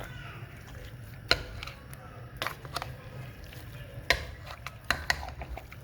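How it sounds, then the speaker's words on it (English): A spoon clinks and scrapes inside a pot of Nigerian stew with thyme and curry, giving a handful of sharp knocks at irregular intervals over a low background hum. "So I will give it a proper stir together."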